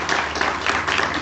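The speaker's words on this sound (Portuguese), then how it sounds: "Vamos dar uma salva de palmas para Jesus." A congregation at a church water baptism service claps together in a brief, continuous burst, the sound even and moderately loud throughout.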